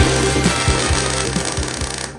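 A flap wheel sander grinds against a welded metal radiator frame for a car, a loud, steady rasping whir with a rapid pulsing rhythm that cuts off abruptly at the end.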